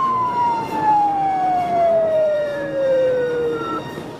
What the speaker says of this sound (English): using a siren to alert drivers in the path of the speeding suspect